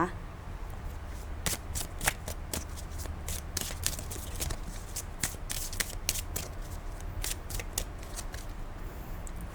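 Tarot cards riffled and shuffled by hand in a steady run of crisp, rapid slaps and riffles, close and fairly quiet, over soft room tone.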